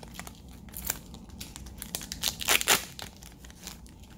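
Plastic foil wrapper of a Japanese Pokemon VMAX Rising booster pack being torn open and crinkled, a run of close crackling rustles that swell into a loud ripping burst midway before settling back to lighter crinkles.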